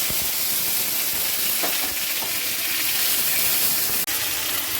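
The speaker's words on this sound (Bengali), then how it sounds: "কড়াইয়ে তেলের উপরে দিয়ে দেবো আবার এখানে," Fried potatoes for chicken biryani go back into hot oil in a wok, setting off a loud, continuous close-up hiss and sizzle that holds steady and briefly dips near the end.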